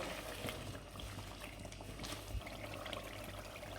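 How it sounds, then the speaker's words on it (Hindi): Water poured into a pot of browned desi chicken curry for slow simmering, a faint continuous trickle and splash with soft bubbling, quiet and alone. "अब क्या करेंगे कि 2 प्याली इसमें पानी डाल के धीमी आंच पे इसको पकने के लिए छोड़ देते हैं"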